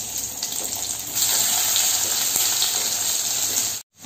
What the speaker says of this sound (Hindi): इधर में मछली फ्राई हो रहा है